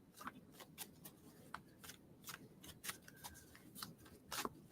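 Playing cards riffled and shuffled by hand in a quiet room, a run of soft crisp flutters and ticks arriving in uneven bursts, close and fairly faint.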